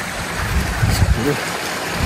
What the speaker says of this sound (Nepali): यस्तो छ यहाँ खोला बगिरहेको छ यत्रो खोला छ यहाँ